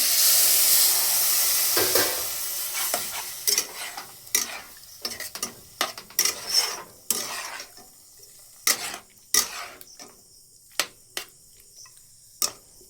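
Water hitting a hot pan of frying semolina with a loud hiss that fades, followed by irregular scraping stir strokes in the pan, close and clear.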